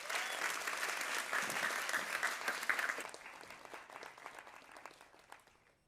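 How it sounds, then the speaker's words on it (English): Audience at a waste challenge kick-off event applauds a remote guest, a dense steady wash of clapping that stays loud for about three seconds, then thins and fades out toward the end. "can I get a big round of applause for Tomas Turner?"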